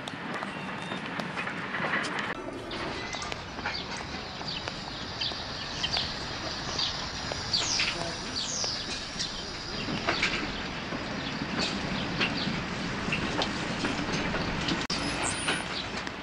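A steady rumbling train in motion, with continuous rattling and faint clicks throughout and no talking.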